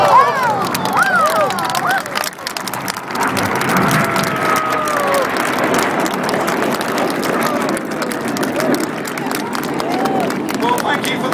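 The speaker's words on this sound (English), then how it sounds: "thank you for the warm round of applause" A large outdoor crowd at the Bristol International Balloon Fiesta claps and cheers for the Red Arrows air display, a dense, steady wash of applause with scattered whistles and voices lasting throughout.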